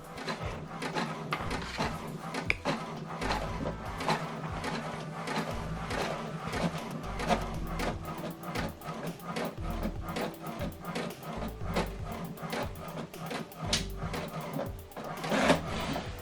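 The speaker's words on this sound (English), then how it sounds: "Okay, the second one is printing." An inkjet-style printer runs a document sent from an Android phone, giving a steady mechanical whir with rapid repeated clicks and carriage shuttling, close and moderately quiet, with no talking.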